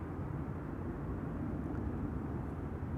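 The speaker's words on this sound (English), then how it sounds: "Transavia arriving from Olbia, flying parallel to it to this runway." A Transavia airliner arriving from Olbia at Amsterdam Schiphol Airport gives a steady, distant jet roar that stays constant and dominates, with no talking.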